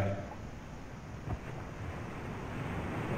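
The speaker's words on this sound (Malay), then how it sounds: "Angin barambui kancang, dabu ombak mampai gadang." Strong wind and big ocean waves make a steady, dense roar of surf and gusting wind noise, continuous and fairly loud with no breaks.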